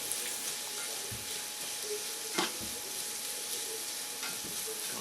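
Garlic fries in oil and butter with a steady, fairly quiet sizzle, broken by a few soft scrapes and clicks as it is stirred in the pan for meatloaf, with no voices.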